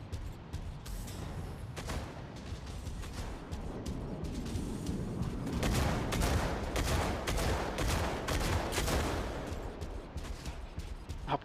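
Dense rapid gunfire and explosions from mech combat in the video game Mech Arena, a continuous loud barrage of bursts with sharper crackling peaks throughout.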